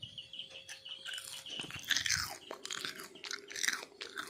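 Crispy homemade french fries being chewed up close, crunchy bites repeating in an irregular rhythm, fairly loud, with no talking.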